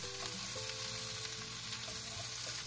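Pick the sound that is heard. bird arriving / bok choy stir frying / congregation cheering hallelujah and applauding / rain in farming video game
bok choy stir frying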